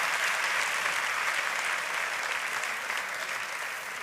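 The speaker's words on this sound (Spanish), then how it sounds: "Démosle un aplauso" A church audience claps steadily through a sermon, a dense, even spread of applause that eases off slightly toward the end.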